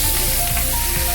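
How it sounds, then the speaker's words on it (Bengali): Egg-filled bata fish frying in hot oil, with a steady, close, dense sizzle and crackle that runs without pause and carries no voices. "আর একটা একটা করেই আমি এই ভাজবো। তেলটা গরম হয়ে গেছে।"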